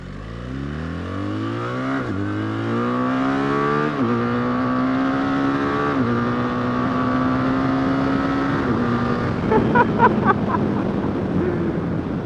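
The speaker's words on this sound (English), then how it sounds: "I don't want to get anything too crazy out of sorts when accelerating, but we'll see what sort of takeoff we can get here" A 2024 BMW R 1300 GS motorcycle accelerates hard, the engine rising in pitch through several gear changes, loud and close, then settling into a steady drone with wind rush.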